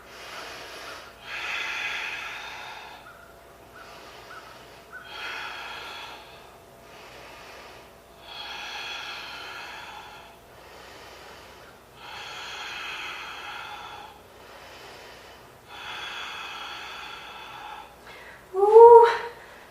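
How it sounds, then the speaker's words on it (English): Slow, deep breathing during a seated yoga twist, about eight long audible breaths in a steady rhythm, close and clear, ending with a brief vocal sound. "we're going to take a couple breaths here."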